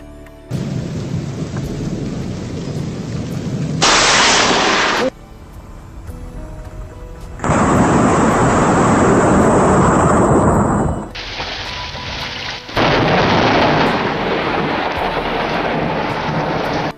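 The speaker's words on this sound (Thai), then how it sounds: "ลองดูผลของฟ้าผ่าจากวิดีโอนี้นะครับว่ารุนแรงเพียงใด" Heavy rain roars in bursts, broken by sharp cracks of nearby lightning and deep rumbling thunder, loud and close, with no voices.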